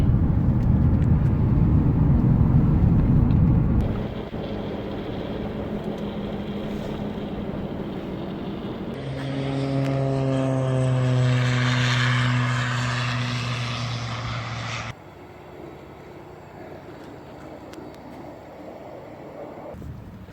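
A propeller airplane engine drones steadily on a flight into King Salmon, Alaska, rising into a louder, buzzing whine with strong harmonic tones before cutting to a lower rumble.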